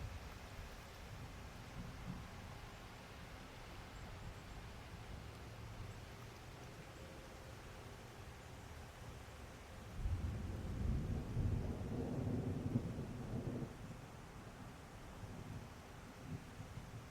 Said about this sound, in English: I'm hearing thunder.